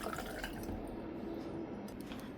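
Pumpkin mixture for spiced cupcakes poured into a jug, a close, quiet liquid pour with soft drips and wet glugging sounds, no talking.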